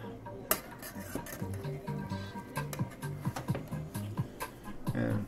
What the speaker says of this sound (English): I'm going to give it a nice little flip